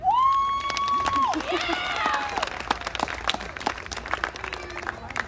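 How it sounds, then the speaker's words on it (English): An audience at a pageant gives a judge a burst of applause and cheers, with dense clapping and a few whoops that gradually thin out, while a voice briefly carries over the crowd at the start. "And our next judge, we'd like to give a big round of applause for Paula Johnson."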